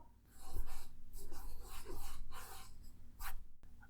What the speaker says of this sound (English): Then I'll shuffle the cups, and you'll point to the right one.